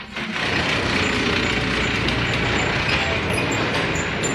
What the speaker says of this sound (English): It's the cart that collects the trash.